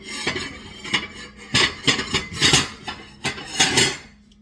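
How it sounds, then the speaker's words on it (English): Seasoned shrimp tossed in flour in a bowl, heard as a run of clattering and scraping knocks against the dish in uneven bursts, close and moderately loud, with no talking. "I'm tossing them in the flour to make sure they're really coated this time"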